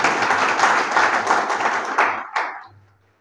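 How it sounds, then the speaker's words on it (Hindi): An audience at a university education department induction meeting applauding loudly; dense clapping for about two seconds that then thins out and fades to near silence. "एक बार अपने लिए ज़ोरदार तालियां बजाइए"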